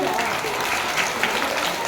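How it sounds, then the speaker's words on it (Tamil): Applause rises from an audience at a school prize distribution as second-grade students are called up, a steady wash of many hands clapping throughout, with a voice speaking over it. "உங்க வகுப்பு மாணவர்கள் வரும்போதாக கைத்தட்டி உற்சாகப்படுத்தணும்."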